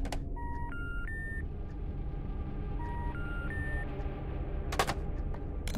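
Telephone keypad tones from the video game In Sound Mind: two quick runs of rising dialing beeps, each several notes long, over a steady low background hum, followed near the end by a short sharp burst.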